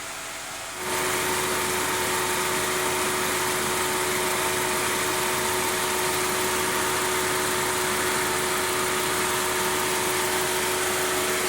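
A 2005 Chrysler Town & Country idles with the air conditioning running, its steady engine hum and blower drone starting abruptly and holding constant and fairly loud.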